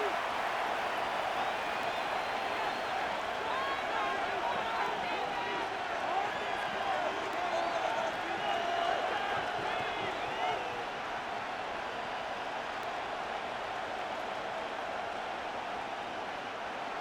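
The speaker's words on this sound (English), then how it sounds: "Work to do here with a crowd at fever pitch." Stadium crowd noise from a Madden NFL 26 football game between the New York Giants and New England Patriots: a steady, dense roar of cheering that holds at full strength throughout and eases only slightly near the end.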